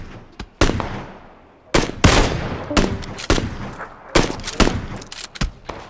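Gunfire from the battle game PUBG, several loud sharp shots and short bursts spaced unevenly, some with rolling echo as if fired from a distance.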